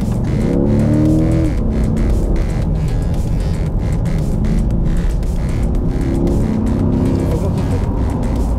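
A Corvette C8 revs and accelerates hard, its deep American V8 rising and falling through repeated gear shifts, loud and close with a rough, booming exhaust note.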